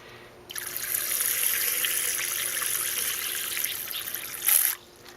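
Water squirted steadily from a syringe while filling an e-cigarette cartomizer: a continuous hiss lasting about four seconds that ends in a short, louder spurt, with no talking.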